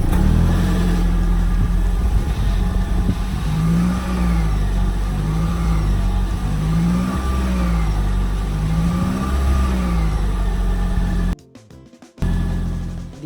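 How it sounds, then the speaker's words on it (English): A 2012 Toyota Camry Hybrid XLE starts from cold, and its engine runs with a steady hum and a gently wavering pitch for several seconds before the sound briefly cuts out near the end. "Now I'm going to do a cold startup"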